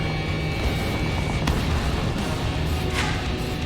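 A missile launch in the video game Ace Combat 7: Skies Unknown sounds as a brief whooshing burst under a loud, constant jet engine roar, followed later by another short rushing streak.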